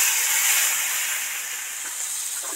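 Water poured into a pan of hot fried spices and oil for a potato, pointed gourd and bata fish curry sets off a loud, steady hiss of sizzling that fades slightly over a few seconds.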